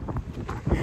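Steady, heavy wind buffeting the microphone, a low roaring rumble throughout with gusty swells.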